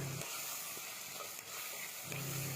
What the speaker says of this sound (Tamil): தக்காளி ஒரு 2 தக்காளி பழத்தை நல்லா சின்ன சின்னதா நறுக்கி போட்டு நல்லா வதக்கி எடுத்துக்கலாம்.